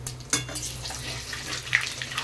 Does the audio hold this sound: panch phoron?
yes